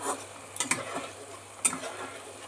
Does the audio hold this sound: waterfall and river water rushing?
no